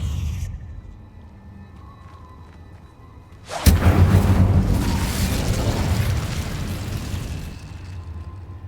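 An Incendio fire spell cast in Hogwarts Legacy erupts with a sudden loud whoosh and burst, followed by a roaring, crackling rush of flame that slowly fades after a quiet lead-in.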